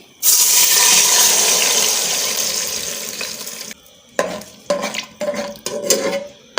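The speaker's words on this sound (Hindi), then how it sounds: "ये 1 गिलास भर कर हम इसमें दूध डालेंगे" A glass of milk poured into hot ghee in a pan while making degi zarda mutanjan rice: a loud sustained rushing pour and sizzle for several seconds, followed by short bursts of bubbling and stirring clatter.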